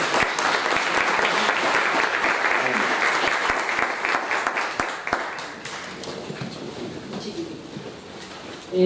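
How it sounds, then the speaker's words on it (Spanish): Strong applause from an audience for the panelists at an arts festival in Bogotá, loud and dense at first, then gradually thinning and fading as a few voices rise beneath it. "Pues un fuerte aplauso para nuestros panelistas."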